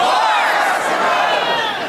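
A rally crowd cheers in one big sustained roar of shouts and whoops, loud and dense from start to end.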